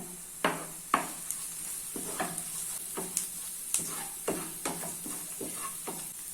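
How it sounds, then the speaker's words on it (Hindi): Onions and spices (turmeric, coriander powder) stirred and frying in a pan for mutton curry: a steady sizzle with repeated sharp scraping strokes of a spoon, close and moderately loud, no talking. "मसालों को ऑनियन के साथ मिक्स कर लिया है"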